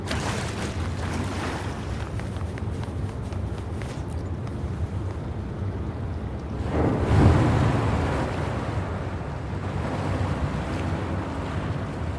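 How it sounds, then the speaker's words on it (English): Water drains away in the Wuthering Waves video game, a continuous rushing, washing roar that swells louder for a few seconds midway before settling back to a steady flow, with no speech. "The water level just dropped again."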